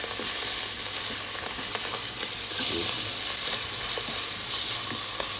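Raisins and pineapple stirred in a hot pan while cooking rice, with a steady close sizzle and frying hiss under repeated scraping strokes of a utensil, continuous throughout with no talking.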